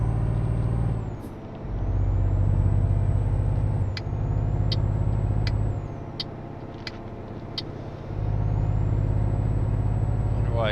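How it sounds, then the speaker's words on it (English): Truck air brakes hiss and chirp in Euro Truck Simulator 2, several short sharp releases scattered over a steady engine drone that dips and swells, with no talking. "Wonder why he hit his brakes."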